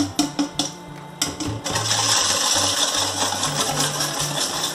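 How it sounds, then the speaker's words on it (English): A whisk beats eggs and sugar in a bowl during a first attempt at choux pastry, starting as a few sharp clinks and then settling into a fast, loud, continuous rattling whirr close by. "Okay, I'm just gonna whisk it then."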